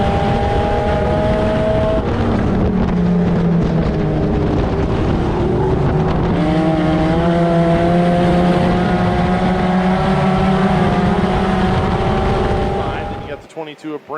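A pack of race cars runs four wide into turn 3, their engines roaring loudly and close together as several overlapping whining tones rise and fall for over ten seconds before cutting away abruptly.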